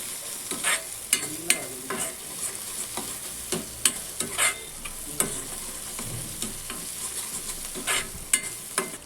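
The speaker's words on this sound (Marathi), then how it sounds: "कांदावर थोडासा परतून घ्यायचा आहे." Onions sautéing in a pan for veg momo filling, a continuous crisp sizzle broken by frequent clattering stirs of a spatula against the metal, close and alone.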